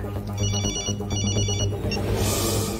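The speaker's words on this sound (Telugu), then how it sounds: "రింగ్ అవుతుంది కానీ ఎవరు ఎత్తట్లేదురా." A ringing phone trills in short repeated bursts, mixed with music and some voices underneath.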